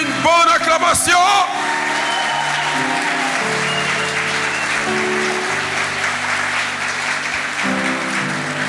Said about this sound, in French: Donne-moi une bonne acclamation.